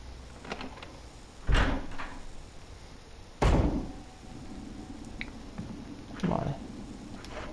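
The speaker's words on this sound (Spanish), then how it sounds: "Abrimos la puerta a ver dónde va." A door opening in the Resident Evil HD video game, three sharp clunks spaced a couple of seconds apart over faint background hum, each with a short ringing tail.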